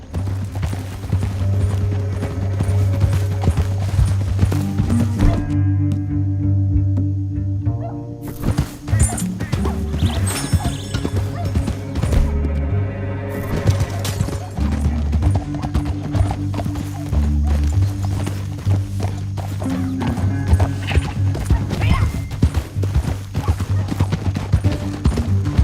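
In Red Dead Redemption 2, a horse gallops with rapid, loud clip-clop hoofbeats over a canyon trail, with snorts and occasional gunfire under a steady musical score, broken by brief pauses in the stride.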